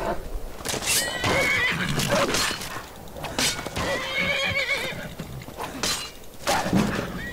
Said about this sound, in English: this horse is fighting for me at least